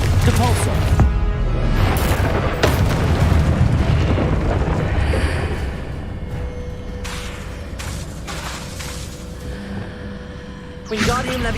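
Confringo spell blasts erupt in the Hogwarts Legacy video game as layered booms and crackling bursts. The busy, loud effects thin out toward the end, with a voice mixed in among them.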